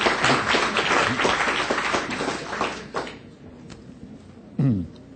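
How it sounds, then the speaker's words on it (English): Applause at an expo talk fills the first three seconds with brisk, loud clapping that fades away, followed by a brief thump or handling noise near the end. "give a big, big round of applause"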